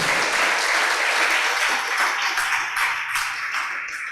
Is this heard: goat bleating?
no